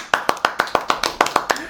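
Audience applause for a guest at an interview, heard as a dozen sharp, evenly spaced claps in a quick steady rhythm, fairly close and moderately loud.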